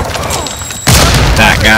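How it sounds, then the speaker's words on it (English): Grenade blast and gunfire in a combat firefight: a faint rattle and murmur, then a sudden loud explosive burst about halfway through, followed by sustained heavy fire. "Taking fire! Taking effective fire! Grenade!"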